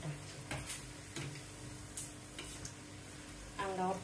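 Mirchi bajji, chili pepper fritters, fry in hot oil with a soft steady sizzle and occasional light taps and stirring clinks, close but fairly quiet.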